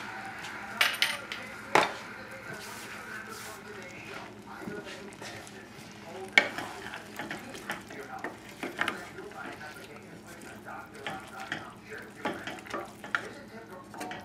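Surf and turf arborio rice cooking in a pan: a soft sizzle under intermittent stirring scrapes and light clinks of utensils, with a voice talking faintly at times.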